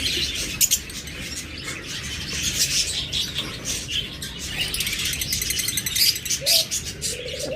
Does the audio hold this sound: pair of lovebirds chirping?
yes